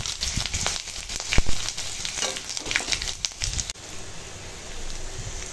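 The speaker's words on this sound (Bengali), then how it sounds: "দিলাম কাঁচা লঙ্কা চেরা, তেজপাতা, আর এই দিলাম 5 ফোড়ন" Slit green chillies, bay leaf and five-spice tempering crackle and sizzle loudly in hot oil in a pan, a steady close frying hiss with sharp pops and spits throughout, no voices.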